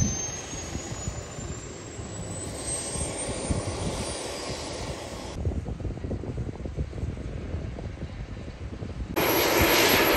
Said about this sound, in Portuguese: Aqui de fora dá para ter uma noção da quantidade de helicópteros.